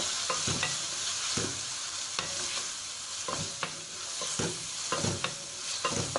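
Peeled tomatoes sauté in hot oil for chicken jalfrezi, a continuous close sizzle broken by repeated rhythmic spoon scrapes and stirs across the pan, with no voices.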